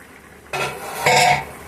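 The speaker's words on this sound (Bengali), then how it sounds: "বন্ধুরা ঢাকনাটা উঠিয়ে দেখছি লাউয়ের কতটুকু জল ছেড়েছে" A metal lid is lifted off a pot of bottle gourd simmering over a medium gas flame. An abrupt clatter gives way to a louder rush of hissing steam and sizzle, with a second surge near the end and no talking.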